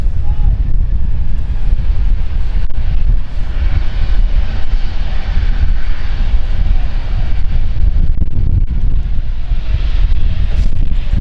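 A German Airways wet-lease airliner at London City Airport makes a steady, loud, broadband engine roar that holds throughout, mixed with wind rumble on the microphone.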